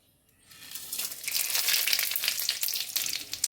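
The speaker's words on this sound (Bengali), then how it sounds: "আমি এবার ফোড়ন দেব। কড়াই তেতে গেছে। এবারে জিরে, তেজপাতা, লবঙ্গ, দারচিনি, একটা শুকনো লঙ্কা আর এক কালো গোলমরিচ।" Whole spices for tempering (cumin, bay leaf, cloves, cinnamon, a dried red chilli, black pepper) hit a hot wok of oil and burst into a loud, steady sizzle after a quiet start, crackling throughout with no talking.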